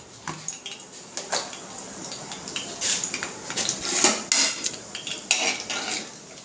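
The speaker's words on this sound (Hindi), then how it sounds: "इसको हम अच्छे से भून लेंगे" Cumin seeds and asafoetida roast in a pan on the stove, with a steady faint sizzle under scraping and clinking of a metal spoon stirring against the pan.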